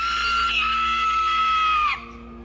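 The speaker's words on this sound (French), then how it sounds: "Elle a donc crié 2 fois plus fort que ses armoires à glace." A woman's loud, sustained high-pitched scream rings out in a scream volume contest for about two seconds, holding steady before cutting off sharply into quiet.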